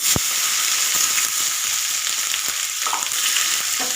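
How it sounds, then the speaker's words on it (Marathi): Chopped onions fry in a pan for a chicken fry dish, giving a loud continuous sizzle with a few light clicks of stirring, no voices. "कांदे भाजून घेऊया"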